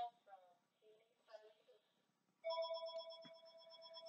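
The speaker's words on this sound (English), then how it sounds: "Can somebody just answer the phone?" A telephone rings with a steady electronic tone, starting after some quiet speech and continuing loud and unbroken to the end.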